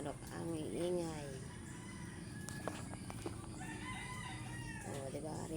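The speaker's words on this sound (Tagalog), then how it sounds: "Nagtitilaukan pa po ang mga manok ngayon." Backyard roosters crowing on a rainy morning, several overlapping crows near and farther off with some clucking, under a steady background hiss.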